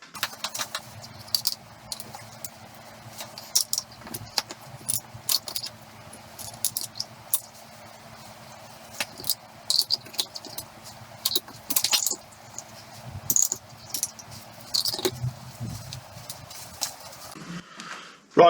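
Metal cam followers being pulled from a classic Mini engine, giving sparse light metallic clinks and taps scattered over a quiet workshop background, close and irregular.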